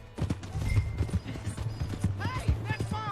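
Horse hooves pounding at a gallop in the Western video game Red Dead Redemption, a rapid steady clatter heard over game music while characters talk and shout.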